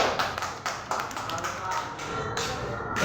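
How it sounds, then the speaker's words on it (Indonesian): A classroom of students applauds for a group coming forward, a quick burst of scattered, close clapping with taps and thuds, voices faintly mixed in. "kita berikan tepuk tangan"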